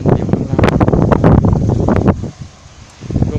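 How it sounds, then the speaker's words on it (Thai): Strong wind buffets the microphone at a newly opened mountain viewpoint in Thailand, roaring in loud gusts that drop away briefly near the end before returning. "ลมแรงมากครับ"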